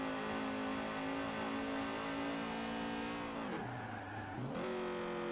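An original Acura/Honda Integra Type R, front-wheel drive, revs hard with a steady high-pitched engine whine that drops briefly through a gear change before climbing again, heard from inside the car.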